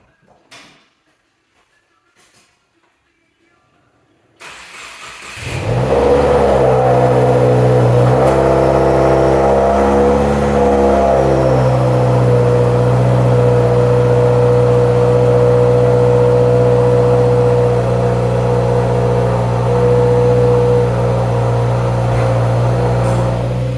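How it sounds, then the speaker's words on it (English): A car's cold start after a new exhaust resonator has been fitted: after near silence, the engine cranks and catches at about five seconds, then holds a loud, steady, droning high idle with a few small rev changes. "really obnoxious cold start"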